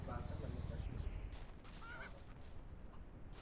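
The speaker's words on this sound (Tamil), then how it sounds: "கோழி சாப்பாடு கேட்குது." A chicken clucks and squawks in short honking bursts in the video game Ranch Simulator, fairly faint, with a low murmur of voices underneath.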